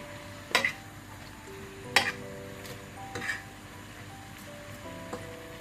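Spinach sautéing in a pan with pepper, a gentle sizzle under a few sharp utensil clinks and stirring scrapes, close by and moderately quiet.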